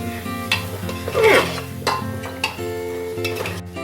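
Chopped potatoes are stirred into a sizzling spice masala in a pan, a spoon scraping and clattering against the pan in irregular strokes over a steady frying hiss.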